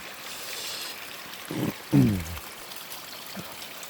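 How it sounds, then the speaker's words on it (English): Runoff from a yard's French drain flows through a cut earthen drainage channel on a hillside, a soft, steady trickling rush with a couple of brief louder splashes near the middle. "You can hear the water."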